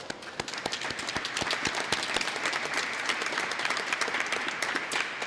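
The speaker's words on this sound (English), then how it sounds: "I think that's worthy of a round of applause." An audience at a Kentucky public education kickoff event breaks into sustained applause, dense and steady from start to finish with scattered sharper claps standing out.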